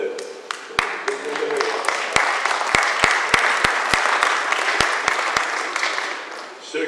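Audience applause at a lecture at the CUM in Nice, a dense wash of clapping with several sharp, close individual claps standing out, gradually tapering off toward the end.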